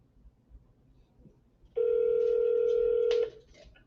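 A telephone call being placed gives one steady, clear electronic tone lasting about a second and a half, loud and close over a quiet room background.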